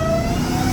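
A Dodge Challenger Hellcat Redeye supercharged V8 roars through a straight-piped, catless exhaust with two mufflers, a loud continuous deep drone with a steady tonal note on top.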